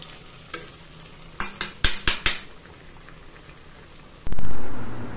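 Four bora fritters fry in plenty of hot oil with a low bubbling sizzle, broken by several sharp metal utensil clinks. A loud burst of spitting oil follows near the end.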